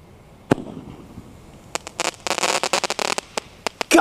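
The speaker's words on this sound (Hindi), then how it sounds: "ये चल रहा हमारा सोनी वाला स्काई शॉट, देखते हैं ये कैसा चलता है" Sony sky shot firework launching with a sharp pop, then a rapid crackling run of loud bursts and bangs over several seconds, outdoors during Diwali fireworks testing.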